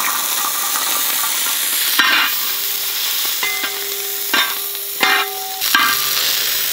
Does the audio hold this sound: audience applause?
no